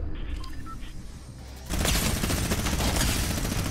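Sustained bursts of gunfire in the video game Fortnite, loud and dense, starting after a quieter stretch and running continuously to the end with no speech over it.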